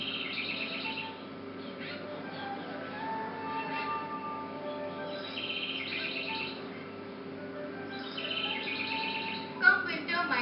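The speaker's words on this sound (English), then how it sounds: "The gay tweeting and the colorful sight of birds of all sizes and shapes welcome residents" Migratory birds at Bengaluru lakes give repeated high chirps and tweets in short bursts, moderately distant, over a steady low background hum.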